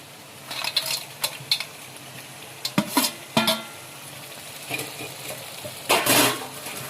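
Bread halwa stirred in a pan while cooking, with scattered scraping clinks and soft knocks of a spoon against the pan in irregular bursts, fairly quiet and close.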